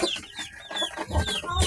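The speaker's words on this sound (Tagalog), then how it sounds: "Yan yung mga sisiyo natin guys." Two-week-old Black Australorp chicks peeping, a quick cluster of high, bright chirps overlapping, fairly close and lively in a short burst.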